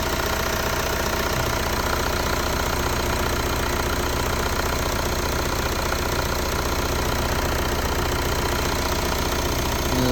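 A Renault Laguna 3 2.0 dCi 180 hp diesel engine idles steadily after a starter replacement, a loud, close, continuous clattering rumble with no voices over it.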